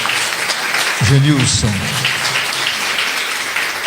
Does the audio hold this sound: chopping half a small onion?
no